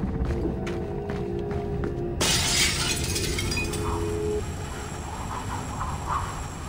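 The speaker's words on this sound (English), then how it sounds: "The only way out is through the glass and fast rope down." Glass window smashing in Splinter Cell Blacklist: a loud sudden shatter bursts in about two seconds in, then scattered shards and debris ring on under low game ambience and music.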